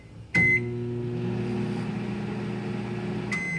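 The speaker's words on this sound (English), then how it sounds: "Microwave." A hotel room microwave oven starts with a beep and settles into a steady, close humming drone, ending with another beep as it stops.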